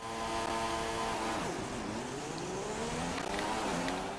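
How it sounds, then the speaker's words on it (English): A Formula 1 car engine in the F1 2016 racing game held at high revs on the grid at the Canadian Grand Prix start, a steady loud whine with shifting pitch under a continuous roar. "So hold the clutch, hold the revs,"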